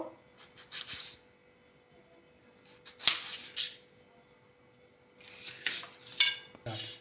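A knife slices through tomatoes in a home kitchen while a mushroom curry is being prepared, giving three short clusters of crisp cutting and tapping sounds on the board, close and fairly quiet, with pauses between them.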